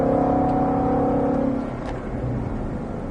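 A Ford Mustang Shelby GT500 rated at 760 hp accelerates hard from inside the car, its loud engine drone climbing for over a second before easing off to a lower, steadier rumble.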